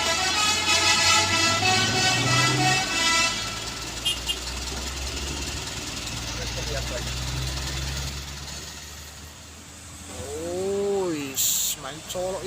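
A car horn honks in a quick burst of short toots near the end, while the car climbs a steep hill in heavy rain. Before it, an engine hums steadily, rain hisses, and people talk throughout.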